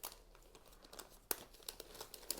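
Thin OPP plastic film crinkles and rustles as it is folded around water-soaked floral foam for a flower box, with a steady run of close, soft crackles and a few sharper crinkles, no talking.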